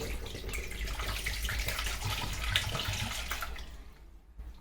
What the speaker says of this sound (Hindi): अब इसका पानी हम पलटेंगे चेक करने के लिए कि एक नारियल में कितने ml पानी निकल रहा है।